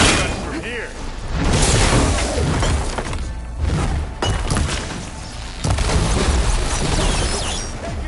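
Gunfire and crashing impacts in the video game Horizon Forbidden West, loud booming shots and shattering hits in a dense, chaotic mix with a voice talking over them.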